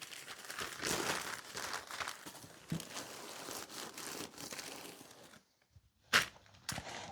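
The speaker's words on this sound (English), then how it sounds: "again, I'm going to wrap it in paper to give it that extra protection." Packing paper being crinkled and folded around an item, bubble-wrapped first, while packing a house for a move; close, busy rustling and crumpling runs steadily, pauses near the end, then returns in a few sharp crinkles.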